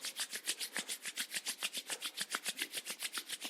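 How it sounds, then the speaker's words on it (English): Palms rubbed briskly together in a steady back-and-forth rhythm, about seven strokes a second, each pass a close, soft dry swish with no talk over it. "Rub your palms."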